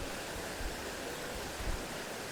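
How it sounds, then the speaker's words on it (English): A tall, popular waterfall in Honduras roars as a steady, dense rush of falling water, continuous and fairly loud with no voices over it. "Not quite Tantalus size waterfall, a little bigger than that"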